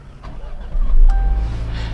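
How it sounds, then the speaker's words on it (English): A 2020 Jaguar F-Pace is push-button started, a short electronic chime followed by the engine catching with a low rumble that settles into a steady idle nearby. "So you have to start the car"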